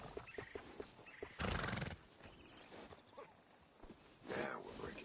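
Horse in Red Dead Redemption 2 snorting and whinnying with hoof clops and shuffling, including a loud breathy snort burst and a later blow, close up, with some talk over the sounds.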